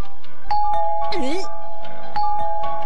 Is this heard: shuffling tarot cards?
no